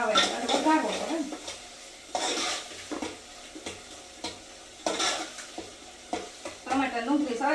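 Roasted brinjal is tempered in a pan with onion and tomato in a village kitchen, a soft sizzle under bursts of stirring and clinks of a spoon against the pot, close up, with faint background voices.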